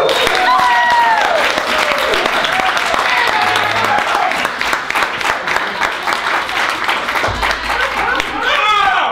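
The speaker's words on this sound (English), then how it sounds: "Can we give him a round of applause on his welcome?" A round of applause from the audience at a literary evening fills the clip with steady, loud clapping and some cheering, while voices carry on over the top.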